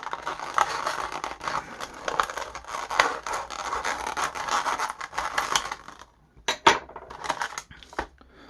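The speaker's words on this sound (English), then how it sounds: "Go ahead and get that bubble cut there." A plastic bubble blister is cut open to free a Star Wars Rebels C1-10P droid figure from its card, giving close, quiet scraping and crinkling for several seconds, then a few sharp snips and clicks.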